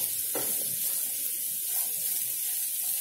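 Cluster beans sautéing in hot oil in a pan give a steady, even hiss close by, with a brief stirring clatter near the start and no talking.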